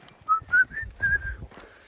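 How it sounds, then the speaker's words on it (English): A blackbird's run of clear whistled notes in short melodic phrases, fairly close, with a soft low rumble underneath and a quiet pause at the end. "That blackbird is whistling the tune"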